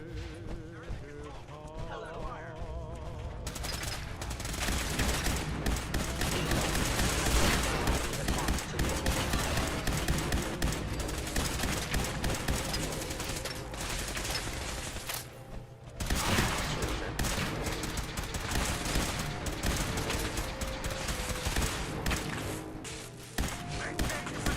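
Dense, sustained gunfire from a Fallout 4 firefight fills the scene, with rapid overlapping shots and steady loud crackle, a brief dip near the middle before the shooting resumes, and voices faintly heard beneath.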